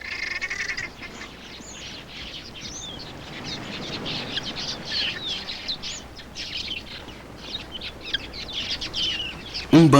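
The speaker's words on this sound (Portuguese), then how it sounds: "Um bando de pássaros efetua uma rápida aproximação e fuga do poço." A flock of birds darting in and out at an African waterhole, with a continuous busy chatter of chirps and calls over a soft background hiss, fairly close and dense throughout.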